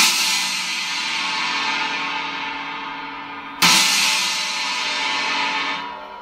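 A Paiste RUDE Novo China cymbal struck twice at a drum clinic, each hit a bright, trashy crash that rings out and decays slowly, loud and close.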